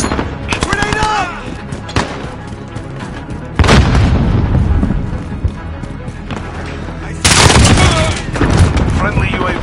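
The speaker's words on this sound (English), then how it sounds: "Grenade up!" Grenade and gunfire bursts in a Call of Duty Modern Warfare multiplayer match, with loud broadband booms around four and seven seconds amid rattling shots and radio-style callouts throughout.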